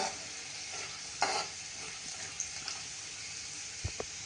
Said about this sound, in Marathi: लसूण पाकळ्या चिरलेल्या, लसूण पण चांगला तळला जायला पाहिजे